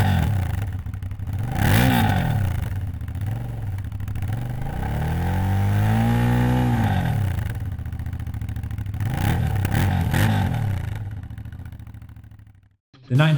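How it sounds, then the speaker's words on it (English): A 2018 Aprilia Shiver 900 with a 900cc V-twin and dual exhaust pipes revs up and down several times, close and loud, with a low, throaty growl between rising and falling pulls. "The 900cc V-twin has a really low tone growl to it, especially in the low RPMs."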